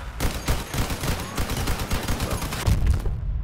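Rapid bursts of heavy cannon fire in the video game Crossout, repeated explosive booms in quick succession, loud and continuous.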